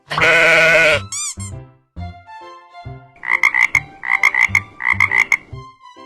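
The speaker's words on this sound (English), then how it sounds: "Frog." After a loud opening sheep bleat and some brief tones, an animated frog croaks in three quick repeated rhythmic bursts, close and clear.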